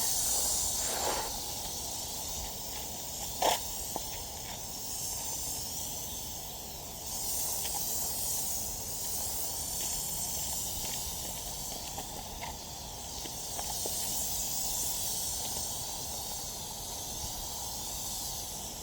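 A pressure washer sprays a patio in a steady, loud hiss of high-pressure water, running continuously, with faint thuds and splashes now and then, close by.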